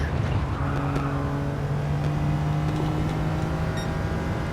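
A car engine in Gran Turismo 7 drones at high revs near 7,000 rpm, a loud, steady sustained tone with a constant buzzing pitch and faint tire noise throughout.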